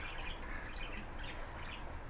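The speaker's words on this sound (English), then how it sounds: "My birds are distracting me, sorry. They're being noisy." Several pet birds chirp and twitter continuously in the background, a fairly faint but steady indoor chatter with scattered higher calls.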